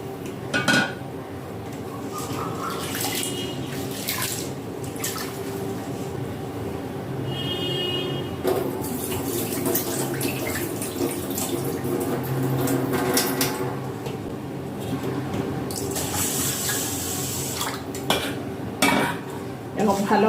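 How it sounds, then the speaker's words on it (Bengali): Broken rice is rinsed in a pot, water sloshing and grains scraped and stirred by hand, with steady wet swishing and occasional clinks of metal over a low kitchen background. "এবং ভালো করে কষলিয়ে কষলিয়ে ধুয়ে নিতে হবে বারবার জল দিয়ে।"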